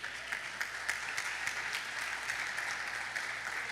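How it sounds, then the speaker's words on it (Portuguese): A church congregation applauding during a Portuguese-language sermon, a steady wash of many hands clapping at moderate distance, fairly quiet and even throughout with no voices over it. "Vamos aplaudir o Senhor por isso?"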